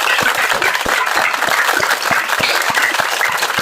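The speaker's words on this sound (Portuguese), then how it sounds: "Eu iria pedir uma grande salva de palmas para este homem." An audience at a book launch breaks into sustained, even applause, many hands clapping close and dense for a few seconds.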